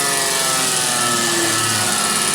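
A 1989 Dodge Ram with a 5.9L Cummins diesel runs hard at about 3,500 RPM, a loud, constant, droning engine roar with a high whine layered on top.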